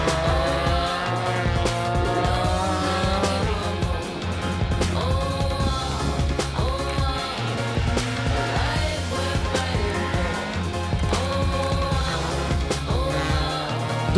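Race cars circling a track of long bends and winding sections, their engines revving loudly and continuously as gears shift up and down, with several cars overlapping in a steady roar.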